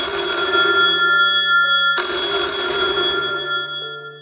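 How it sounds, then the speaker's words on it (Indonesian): A telephone on a hospital front desk rings loudly with a shrill electronic bell tone, two long ringing bursts back to back, the second trailing off toward the end, with no voices. "telepon di meja depan tiba-tiba berdering."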